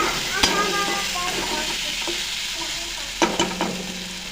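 Potatoes fry with spices in a hot pan under a steady loud sizzle, with a few scraping stirs and clanks of a utensil against the pan.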